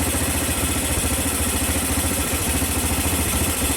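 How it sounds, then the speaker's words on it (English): An ATV engine idles in neutral at a slightly high speed, with a steady, close, loud, even putter and faint clatter and no voices. "I think it idles a little high"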